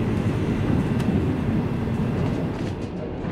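Aboard the Overland passenger train running through Adelaide's suburbs beside the Belair line, a loud, steady rumble of wheels and carriage noise continues without a break.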